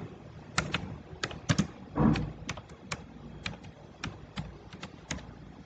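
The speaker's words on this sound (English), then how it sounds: "I will click on this text box and then start typing" Quick bursts of keystrokes on a computer keyboard, irregular clicks in short clusters with pauses between, close and clear with no talking.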